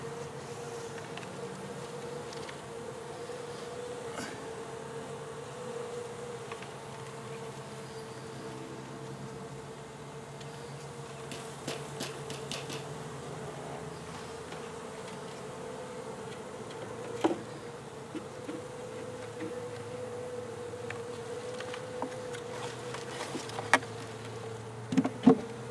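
Honey bees buzz around an 8-frame hive box outdoors at dusk, a steady low drone of many insects with occasional closer passes, fairly faint and continuous with no talking.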